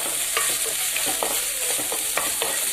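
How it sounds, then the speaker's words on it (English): Green chilies and ginger garlic paste fry in oil in a kadai while a spoon stirs them, giving a steady close sizzle broken by repeated scraping strokes. "we will add 1 tablespoon of ginger garlic paste, and we'll keep stirring till the"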